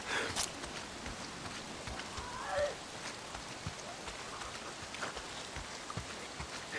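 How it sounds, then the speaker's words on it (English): Steady rain hisses through a wet open-world scene in the video game Days Gone, a constant wash with scattered sharp drips and a few louder splashes, continuing evenly across the stretch beneath occasional movement sounds. "If it's not the freaks, it's the goddamn rain."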